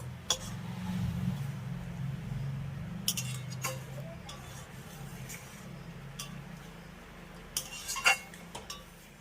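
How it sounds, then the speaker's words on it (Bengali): Fried onions are stirred into a spice mixture in a metal pot, with intermittent scraping and clinking of a spoon against the pot. Low background hum sits underneath. "পেঁয়াজগুলো এবার মশলার সঙ্গে ভালো করে মিশিয়ে দেব"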